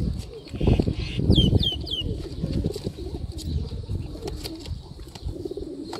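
Golden Cross pigeons at a breeder's loft coo low and steady, with bursts of flapping wings close by and a few sharp chirps midway.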